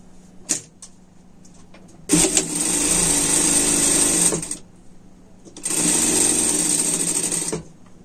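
A sewing machine topstitches a sweater in two sustained runs of steady whirring, with a small click and a quiet gap between them.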